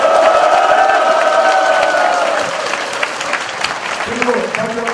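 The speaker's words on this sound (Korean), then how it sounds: "큰 박수로, 함성으로 끝내도록 하겠습니다" A crowd claps and cheers loudly at the close of a launch ceremony for the Seongju THAAD deployment opposition committee, with shouts in the first half that settle into steady, slightly quieter applause.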